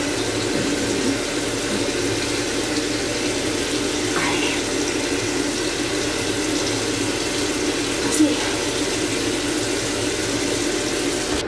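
Tap water runs steadily into a sink for face cleansing, a continuous close rushing stream with no speech heard.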